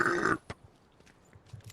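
A person lets out a single loud, throaty burp right at the start, then it cuts off to near quiet with only faint, scattered background noises.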